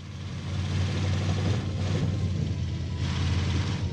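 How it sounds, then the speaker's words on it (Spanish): Strained vehicle engine in Arma Reforger with the RHS mod, held at high revs past 3,500 rpm in a steady, loud, continuous drone with slight surges and no talk over it. "Estaba forzando el motor. Sí, estoy forzando el motor."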